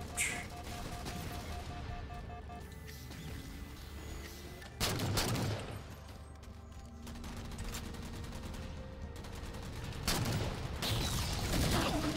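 Halo 4 assault rifle fire in the video game, quiet sustained automatic rattling broken by a few louder bursts and impacts, with no talking over it.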